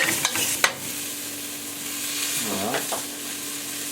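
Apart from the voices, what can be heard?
lamb shanks and vegetables browning in a pan without fat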